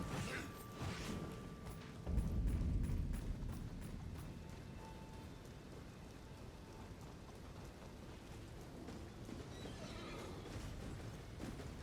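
A horse whinnies in Elden Ring over a steady rain-like hiss, followed by a few hoof clops and faint mechanical clatter in the background.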